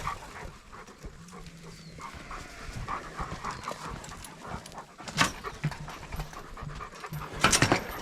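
A border collie pants steadily nearby in a sheep yard, with faint hoof clatter and farm background noise around it.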